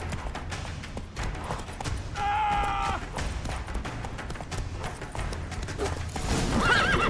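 A horse in The Witcher 3 lets out one loud, clear whinny midway, set against steady hoofbeats and dense battle noise that swells toward the end.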